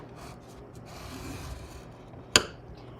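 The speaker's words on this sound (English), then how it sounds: "And then we're going to score this piece at the 3/8 inch mark" A scoring tool drags along cardstock for a birdhouse slider card with a soft, close scraping rub over a couple of seconds, ending in a single sharp tap; no voices.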